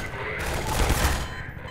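Enemy gunfire in Half-Life 2, a dense burst of rapid shots peaking in the middle of a short rattling fusillade and then fading.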